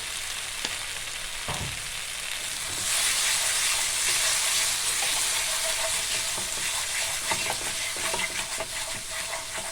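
Spices for potol dolma (stuffed pointed gourd) sizzle and fry in a pan, with a brighter, louder hiss from about three seconds on and occasional scrapes of stirring; no one speaks.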